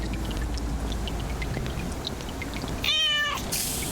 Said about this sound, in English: Thank you for the meow redeem, Sassy.